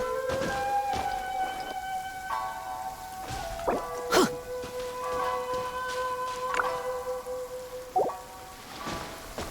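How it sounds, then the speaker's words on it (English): Steady rain pours down in Genshin Impact, a continuous wash of downpour with bright tonal game sounds and sharp chimes layered over it, with no voices. "A downpour certainly rouses the spirit"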